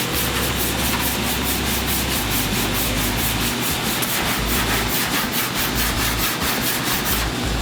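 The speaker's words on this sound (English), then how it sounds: "you file it off with a hard block" Metal car fender on a 1948 Chevy Cabriolet being filed with a hard block, a continuous close, loud rasping scrape with a rhythmic back-and-forth stroke throughout.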